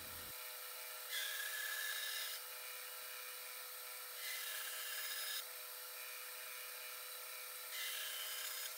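A hand saw makes three separate sawing strokes into a wooden tool handle held against a 30-degree angle guide, each rasping burst close and steady with quiet pauses between.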